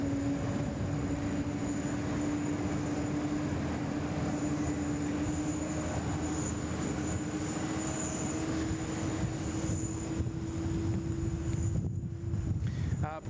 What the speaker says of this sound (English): we'll enjoy the China Southern pushback and start here on from Bay 24